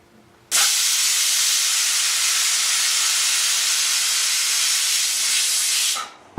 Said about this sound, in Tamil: விசில் 3 விசில் வந்துருச்சு.